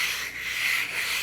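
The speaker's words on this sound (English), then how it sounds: "And I want to stroke this or hone this until I feel a burr." A blade edge stroked lightly across a hone to raise a burr, giving a steady close-up scraping rub that fades slightly twice over a little more than a second.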